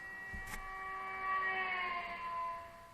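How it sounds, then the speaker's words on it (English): A race car roars past, a high whining tone that holds steady and then slides downward in pitch as it goes by, moderately faint and heard alone with no talk over it. "archetypical example of this is the sound of a race car driving past you."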